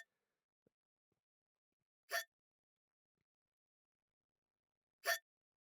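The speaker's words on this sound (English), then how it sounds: "You watch baffled as the cat continues to hiccup, causing little bubbles to float out of its mouth." A cat hiccuping: two short, isolated hiccup sounds about three seconds apart, close and fairly crisp against near silence, with a couple of tiny faint clicks before them.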